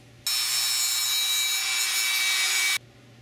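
A Dremel grinding a brushless outrunner motor shaft: a steady, high-pitched rotary whine starts abruptly, holds evenly for about two and a half seconds, then cuts off, with a faint low hum underneath.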